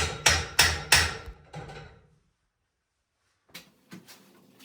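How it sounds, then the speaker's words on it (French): A small mallet strikes props to set them in tension in an old barn frame, three sharp knocks then a softer one, a pause of silence, then a few lighter knocks, with no talking. "Je donne un petit coup de massette pour bien mettre les étais en tension."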